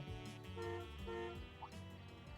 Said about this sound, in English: Was that a car horn?